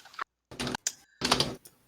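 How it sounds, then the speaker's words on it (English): Heavy, loud typing on a computer keyboard comes in three dense clattering bursts separated by short silences, close up and with no one talking. "I am a heavy loud typer."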